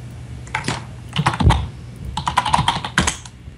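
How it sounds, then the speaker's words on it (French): Rapid computer keyboard typing during a Minecraft-style game session, with loud, close clattering bursts of keystrokes broken by short pauses and no voice over them. "C'est qui a son clavier de malade?"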